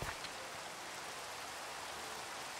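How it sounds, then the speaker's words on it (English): Steady rain falls in the Minecraft video game, a continuous even hiss of drops hitting the surface that runs without a break and with no voices. "sounds like it's raining up there on the surface."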